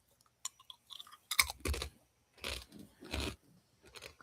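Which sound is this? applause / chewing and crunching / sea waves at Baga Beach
chewing and crunching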